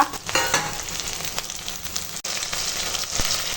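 Cut vegetable stalks go into hot oil with fried onions, a steady close sizzle and crackle broken by a few scraping stirs and one brief dropout, with no one talking.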